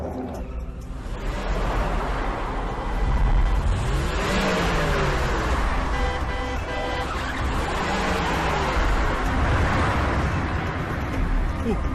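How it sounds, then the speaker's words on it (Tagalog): A car engine revs loudly and close, surging in rising and falling sweeps over a steady rumble, with faint voices in the background. "Sasakyan nila Agent Reyes yun"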